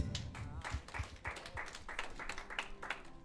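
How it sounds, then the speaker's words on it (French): Scattered clapping from a small group at a civil wedding, uneven and fairly light, lasting a few seconds with no one speaking. "Applaudissez tout le monde."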